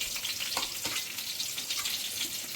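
Pointed gourd and paneer fry in a pan with a close, busy crackling sizzle, scattered pops and stirring scrapes running throughout at an even level, with no voices.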